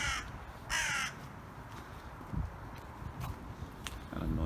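A crow caws a few times outdoors near beach volleyball courts and sports fields, short harsh calls over steady wind noise with faint footsteps.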